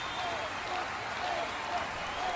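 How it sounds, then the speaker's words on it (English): A wrestling crowd cheers and claps for Playboy as a continuous wash of noise, with a commentator talking over it. "You can hear the crowd really getting behind Playboy."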